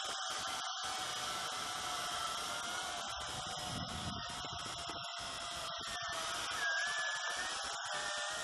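The WLtoys Q212G FPV quadcopter's small motors whine as a steady, high-pitched buzz throughout its flight, faint and slightly wavering with throttle, with no voices.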